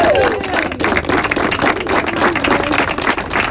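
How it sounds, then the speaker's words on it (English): An indoor audience gives a softball team a round of applause at a college athletics event. The clapping is dense and fairly close, and a voice can be heard faintly beneath it. "let's give them one more round of applause"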